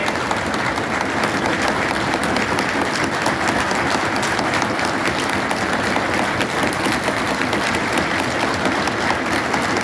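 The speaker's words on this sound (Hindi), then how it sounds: "हमारे विदेश मंत्री एस जयशंकर जी हमारे बीच में, एक बार जोरदार तालियों के साथ उनका स्वागत करेंगे।" Loud, dense applause from a large audience at a BJP Delhi Yuva Morcha political event greets India's foreign minister, a steady roar of clapping throughout with a faint hint of crowd voices.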